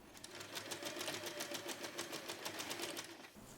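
A sewing machine stitching across tote bag handles, fast rapid needle clatter in a steady even rhythm, close and continuous with no talking.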